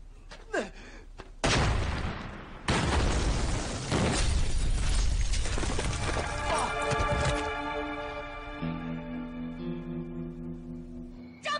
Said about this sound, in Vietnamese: có tiếng nổ rồi, tính sau đây